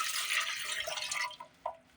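Three-quarters of a cup of water poured into a bread machine pan for dough: a bright, splashing pour that fades over about a second and a half, followed by a couple of faint drips, close and with no talking.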